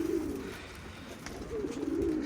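Tumbler pigeons coo close by in a loft, a low rolling coo at the start and again near the end, over a soft background hiss.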